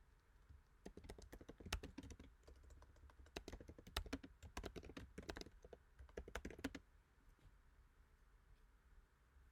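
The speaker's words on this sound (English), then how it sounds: "So let's type this out real quick." Keys on a computer keyboard clatter in quick, uneven bursts of typing, close but quiet. A brief lull comes in the middle, and the typing stops for the last few seconds, with no talk.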